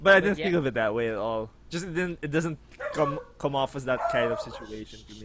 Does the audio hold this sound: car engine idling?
no